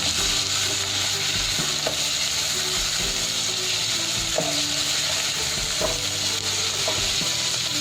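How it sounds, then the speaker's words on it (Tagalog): Shrimp being sautéed with already-cooked pork in a pot for a Korean spicy soft tofu stew, giving a steady close sizzle with scraping stirs and clinks of a utensil at intervals, no talking. "Let's add the shrimp. Saute it."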